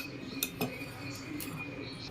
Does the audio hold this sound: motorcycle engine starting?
no